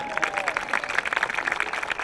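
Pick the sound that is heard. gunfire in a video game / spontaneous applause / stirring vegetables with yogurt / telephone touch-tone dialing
spontaneous applause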